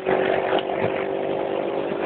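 A motorcycle engine revs loudly and steadily at close range in city traffic, a buzzing drone that holds constant for about two seconds with no voices.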